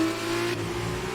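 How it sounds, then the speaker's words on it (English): F2 race car engine from the F1 2019 video game at the Belgian Grand Prix, a loud, steady, close engine drone holding a constant pitch throughout, with no talking. "Geordie is now catching up to the rear of the Trident car"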